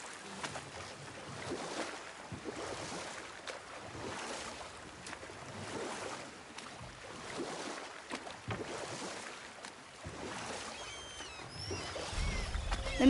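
A boat is rowed across open water in God of War, with a rhythmic swish of oars and lapping waves under soft wind, faint and continuous, with no voices.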